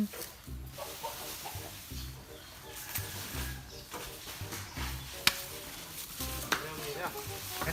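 Wet crunching and chewing sounds as a bull elephant eats sugarcane, steady and close, with occasional cracks and a faint voice in the background.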